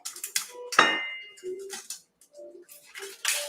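Knife slicing through a fresh new onion on a cutting board, giving a few crisp cuts with a sharp crunch near the start, followed by light knocks and scattered clicks, close and fairly quiet.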